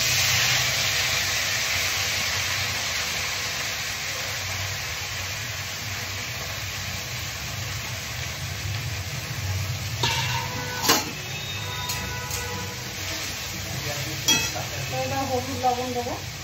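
Greens hit a kadai of hot oil tempered with five-spice, green chilli and garlic, giving a steady loud sizzle and hiss, with scraping and stirring clatter of a utensil joining in later.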